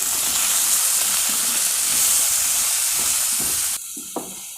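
Vegetables sautéing in a pan with salt and sambar powder give a steady, close, loud sizzle with stirring scrapes. The frying quiets near the end, leaving a few spoon knocks.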